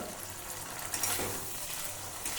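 Chili chicken ingredients stirred in a frying pan, giving a steady close hiss of sizzling with faint scraping under it and no talk.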